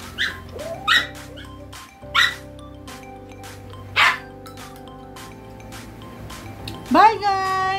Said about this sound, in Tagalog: Ang ingay ng aso ko nandito sa likod